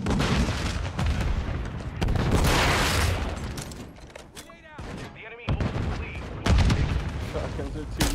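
Shotgun fire and other gunfire in the video game Call of Duty MWIII, dense loud blasts and a chaotic battle din running throughout, mixed with players talking over the action.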